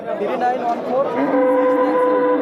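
Cattle at a cow market in Kalampur, a loud close moo with drawn-out rising and falling tones that fill the whole moment, with faint crowd chatter behind.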